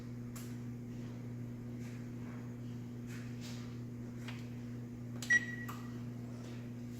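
Gas range oven preheating to 450 degrees, a steady low electrical hum with a constant drone running throughout, plus a few faint clicks and a brief beep near the end.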